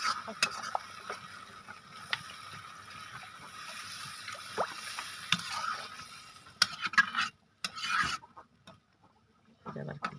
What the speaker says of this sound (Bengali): ভাজা মাছটি দিয়ে দেবো